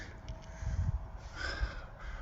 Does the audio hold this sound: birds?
yes